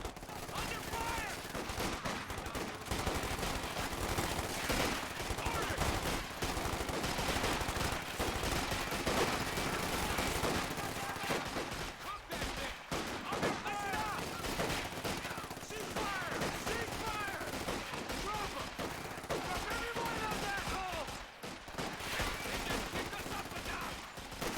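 Dense gunfire from the Company of Heroes 2 Ardennes Assault war game crackles almost nonstop, rapid machine-gun bursts and rifle shots layered together at high loudness, with occasional game voices mixed in.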